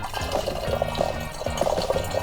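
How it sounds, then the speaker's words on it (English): Distilled water pours steadily into a laboratory beaker in a continuous close splash and trickle lasting a couple of seconds, with no voices over it. "Distilled water goes in first"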